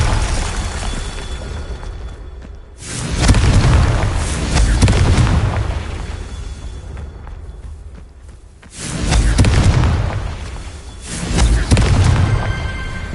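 Heavy booming blasts from a Confringo fire spell in a Harry Potter game, two long roaring explosions several seconds apart, loud and rumbling, each swelling and then fading into a low background hum.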